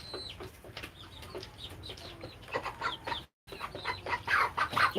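Young chickens under six weeks old cluck and chirp steadily on a small backyard poultry farm, with many birds calling close by and loudly, with a brief drop to silence near the end.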